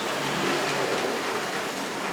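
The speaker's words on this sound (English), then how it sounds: "There's a little train going in the mountains." A model train rumbles along steadily, a continuous broadband whir and clatter with no voices, moderately loud throughout.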